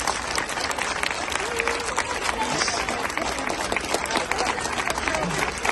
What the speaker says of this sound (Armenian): Ծափահարենք մեզ, լուրջ եմ ասում,